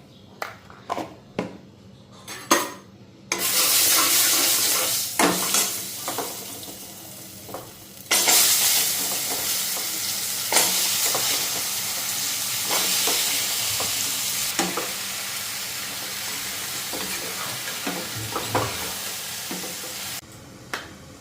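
Black cumin and turmeric fry in hot oil, hissing loudly in long sizzling stretches. Sharp clicks and scrapes of stirring come before the sizzle and keep cutting through it. No one speaks.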